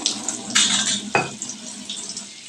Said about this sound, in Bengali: দেখো পরিমাণ মতন জল এর ওপর দিয়ে আমি দিয়ে দিলাম।